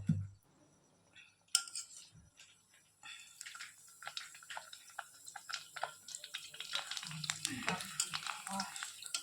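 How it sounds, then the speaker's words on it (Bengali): Ready-made phuchka puris fry and puff in hot oil, giving quiet crackling sizzles that build after a few seconds. Utensil clinks and stirring sounds come up close, and a voice is heard faintly at times. "তেলের মধ্যে না ফুচকা ভাজা হবে, ফুচকা এই যে দিয়ে দিলাম"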